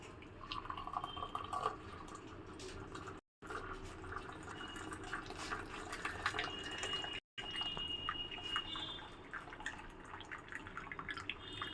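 Tea is poured into a cup, a soft liquid trickle and dripping with light splashes, faint and close, interrupted by two brief gaps of silence.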